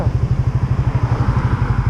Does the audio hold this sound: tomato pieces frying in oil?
no